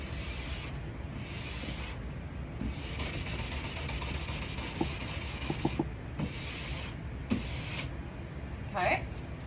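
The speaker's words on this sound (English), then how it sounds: "I usually start kind of going crazy and just go back and forth. I'm pressing pretty darn hard to try to get all that wax out." A scraper is pushed hard back and forth across a Nordic ski base to remove wax, giving repeated rough, hissing scraping strokes in bursts, with a few small clicks and knocks and a voice talking faintly underneath.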